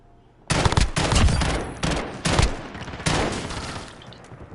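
Gunfire in the Modern Warfare beta multiplayer match: loud, close automatic bursts and rapid volleys fire in several clusters with brief gaps between them, and no talking.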